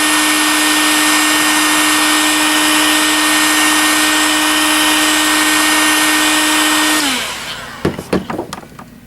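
Hot air blower heating soft glue around a speaker's edges for a train layout, a loud steady whine with a constant tone for about seven seconds, then winding down, followed by a few sharp clicks and knocks.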